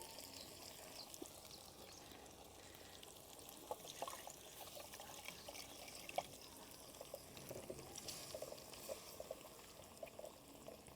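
Water is poured into a cooking pot while gravy for an Afghani egg korma is being made, a quiet steady trickle and splash that runs throughout with small clinks.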